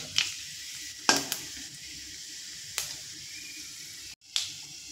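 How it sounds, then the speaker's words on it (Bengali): Five-spice seeds and a dried chilli fry in hot oil for mango pickle, making a soft continuous sizzle broken by several sharp stirring scrapes and crackling bursts, with no talk. "আর দিয়ে দেব একটা শুকনো লঙ্কা। ফোড়নটা একটু ভাজা করে নেব।"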